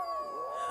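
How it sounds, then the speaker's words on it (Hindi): Dogs howl at night in a village, a long sustained wavering howl heard clearly and steadily, used as an eerie horror effect. "आज ये कुत्ते इतना क्यों भौंक रहे बे?"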